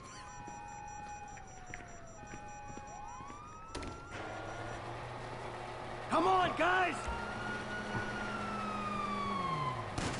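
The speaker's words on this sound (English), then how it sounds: "Oh, fuck, you hear that? Sirens!" Police sirens wail in the video game GTA V, with rising and falling electronic tones cycling loudly over game sounds while someone shouts briefly.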